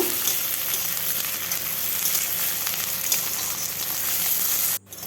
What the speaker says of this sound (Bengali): আলুটা দিয়েও আমি কিছুক্ষণ সময় ভেজে নেব